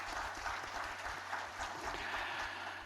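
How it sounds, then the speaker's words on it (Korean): A church congregation applauds together in praise of God, with a steady, moderately soft wash of clapping over a low hum that lasts throughout. "하나님께 영광의 박수를 한번 하십시다"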